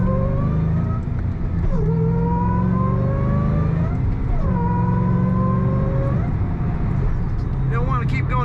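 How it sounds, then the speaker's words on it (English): A supercharged 2007 Ford Mustang Saleen S281 coupe accelerates through its gears, the supercharger's rising whistle and whine climbing over a steady exhaust note with each pull, close and continuous. "We've got that lovely whistle, the lovely exhaust note, all the power you could want."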